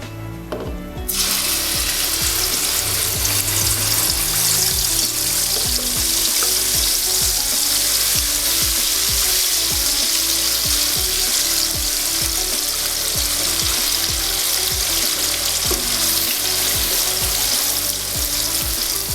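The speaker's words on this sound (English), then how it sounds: "So we let this fry in the oil." Loud, dense sizzling erupts as spice paste for vegetarian nasi lemak hits hot oil, a constant crackling fry with rapid spattering pops that continues without pause.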